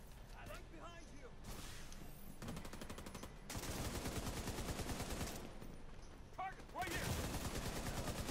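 Rapid bursts of automatic gunfire in The Division 2 shooter game, loud and sustained with short pauses between volleys, with a voice talking over the shooting.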